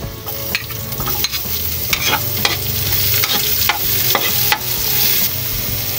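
Onions sauté in a pan over browned garlic while Filipino pinakbet is made, a loud, close, steady sizzle with regular scraping spatula strokes about every half second, and no one speaking.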